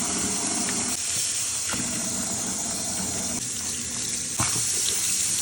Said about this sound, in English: First thing we're gonna do is give this a really good wash and rinse in a sink.